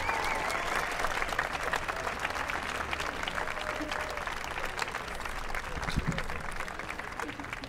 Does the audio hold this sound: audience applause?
yes